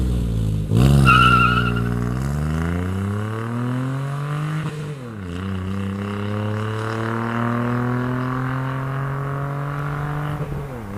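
Modified three-cylinder Mitsubishi Mirage exhaust revs sharply, then holds a steady droning note with gear-like pitch shifts, loud and close with no talking.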